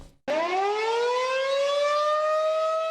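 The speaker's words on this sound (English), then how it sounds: "this morning's statewide tornado siren test went off without a major hitch" A civil defense tornado siren starts abruptly during a statewide test in Greene County, holding a loud, steady wail, rising slightly in pitch and sustaining without pause.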